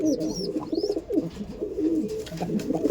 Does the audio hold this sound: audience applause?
no